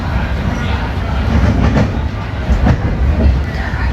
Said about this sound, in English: We used to listen to the train,